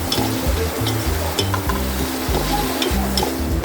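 Singaporean rice and seasonings stir-fry in a hot pan, with a loud, steady sizzle and repeated rhythmic scraping and tossing strokes close up throughout.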